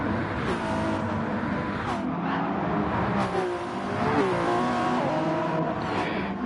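Race car engines howl and rev continuously on a Sao Paulo circuit in an ARC Endurance Championship 60-minute race on PlayStation, with shifting pitch as cars accelerate and pass, loud and steady throughout.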